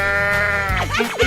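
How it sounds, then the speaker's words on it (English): A sheep in a 3D cartoon animal slide game gives a loud, wavering bleat, a single sustained 'baa' that trails off into a couple of shorter bleating bursts at the end. "Sheep."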